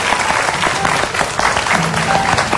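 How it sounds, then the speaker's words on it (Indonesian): A studio audience at an Indonesian TV show during a spicy noodle eating contest breaks into loud, dense applause that fills the whole stretch, close and continuous. "kasih tepuk tangan dulu kalau gitu buat Rianya"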